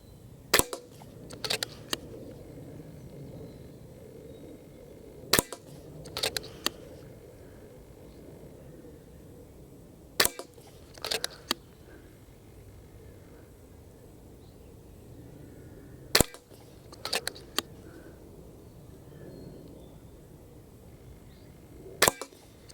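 An FX DRS sub-12 ft-lb air rifle fires pellets and slugs at targets 50 metres away, sharp cracks coming in small clusters every few seconds over a quiet outdoor background.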